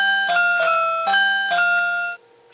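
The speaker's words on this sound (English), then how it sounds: "Music box" Music box voice from a little electronic piano kit: four delicate, chiming plinks in a slow, even sequence, each ringing briefly before the next, close and clear with no talking, cutting off abruptly at the end.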